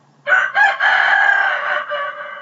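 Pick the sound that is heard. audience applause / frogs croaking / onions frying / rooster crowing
rooster crowing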